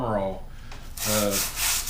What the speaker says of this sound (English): It gets all that off just doing this little bit of sanding.